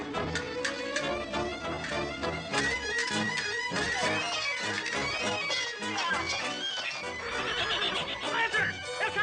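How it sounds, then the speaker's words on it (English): A horse neighs and whinnies amid clip-clopping hooves in an old Zorro adventure scene, loud and busy over a full, constant background mix, with voices shouting in between. "Zorro's horse!"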